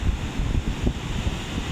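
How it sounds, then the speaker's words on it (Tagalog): Steady wind roars against the microphone near the sea, with a low rumble of surf underneath and no voices. "Yung hampas ng hangin"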